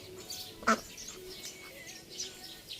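Faint duck quacks, one a bit sharper than the rest, over a low background hum at a distance.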